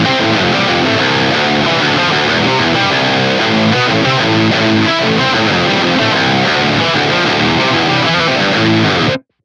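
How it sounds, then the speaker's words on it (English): A Schecter signature electric guitar through a big octave fuzz blended with overdrive, dense and loud chords ringing continuously for about nine seconds before stopping abruptly. "I wanted to show you guys this big octave fuzz sound that I've been doing."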